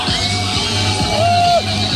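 Crowd cheering and yelling for stunt rider Rafał Pasierbek at a Stunt GP motorcycle freestyle event in Bydgoszcz, a steady loud roar of voices with shouts and whoops rising over it, alongside an engine drone.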